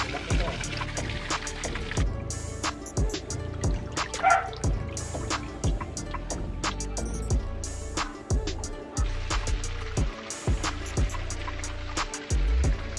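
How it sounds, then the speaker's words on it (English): Water draining from a catfish breeding tank, a continuous trickle with irregular drips and splashes running throughout, nearby and moderately loud, with a person talking over it. "So we are now draining the water"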